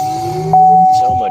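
A phone gives a steady electronic ding, a single clear sustained tone that gets louder halfway through and is mixed with someone talking close by.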